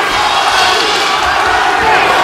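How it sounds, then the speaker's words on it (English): A boxing arena crowd roars continuously to urge a fighter on, a loud, dense wall of cheering and shouting with commentary mixed underneath. "Crowd trying to urge him on."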